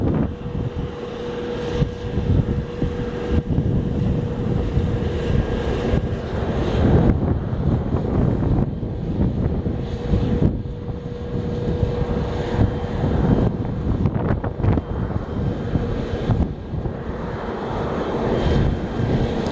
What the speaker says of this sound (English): Southwest Flight 297 inbound from Orlando